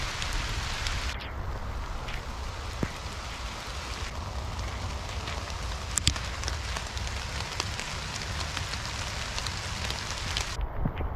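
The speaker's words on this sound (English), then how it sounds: "this rain is crazy. It's pouring really hard right now" Heavy rain pours steadily on a campsite during a rainstorm, a dense, loud, unbroken hiss with occasional sharper drops and gusts of wind noise against the microphone.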